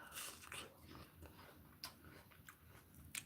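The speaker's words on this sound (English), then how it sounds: "this dog will not let me eat my food in peace" A dog begging for food while someone eats, heard as faint whimpers and soft snuffling mixed with quiet chewing and clicks in a low, muffled room.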